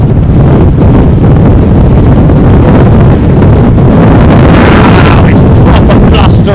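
Strong storm wind batters an open microphone at Heathrow Airport during Storm Kathleen, a loud continuous roar and buffeting that swells and gusts throughout, with a faint engine-like rumble in places.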